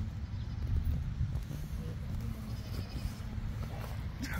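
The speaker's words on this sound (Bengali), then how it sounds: "এইখানে হচ্ছে ছাগল, ছাগল ভেড়া।" Goats and sheep bleating in a livestock pen at an American animal market ahead of Eid, faint calls under steady outdoor noise with some shuffling.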